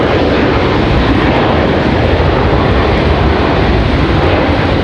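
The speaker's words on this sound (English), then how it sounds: "There is Delta from Los Angeles" A Delta jet arriving at Raleigh-Durham International from Los Angeles roars steadily and loudly close by, a broad continuous engine rush lasting throughout with no voices.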